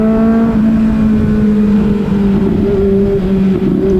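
A Kawasaki Z900 motorcycle accelerates hard to overtake in traffic, its engine note rising in a loud, close, buzzing drone with steady harmonic tones climbing as it pulls past.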